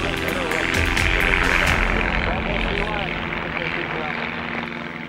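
An RV-7 propeller airplane roars at full power during its takeoff roll, a loud steady engine drone with a buzzing propeller tone heard from inside the cabin, with voices talking over it.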